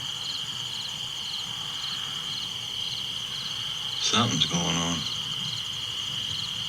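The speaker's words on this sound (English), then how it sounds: "listening to the crickets and quite possibly locusts making all kinds of noise" Crickets chirp in a continuous high-pitched drone, with a brief spoken remark breaking in partway through.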